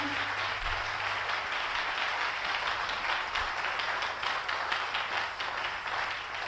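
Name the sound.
congregation applauding in church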